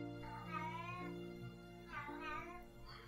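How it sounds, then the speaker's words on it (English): A cat meows twice in drawn-out, wavering cries, with a third call starting at the end, over a steady low background hum. "I'm not sure if you can hear my cat in the background"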